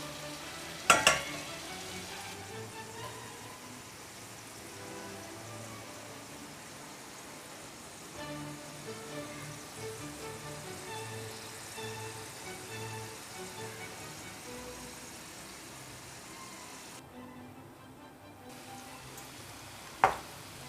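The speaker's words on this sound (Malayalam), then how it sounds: "മീഡിയം ഫ്ലെയിമിൽ ഇട്ട് കൊടുത്ത് വറുത്തെങ്കിൽ മാത്രമേ ക്രിസ്പി ആയിരിക്കുകയുള്ളൂ." Crisp-coated okra (kurkuri bhindi) deep-frying in oil over a medium flame makes a faint, steady sizzle beneath quiet background music, broken by a couple of sharp clicks near the start and end.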